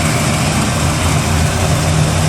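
A 1970 Impala with a 406 small-block engine idling after a vacuum advance modification, a loud, steady low rumble close by with an even, smooth rhythm.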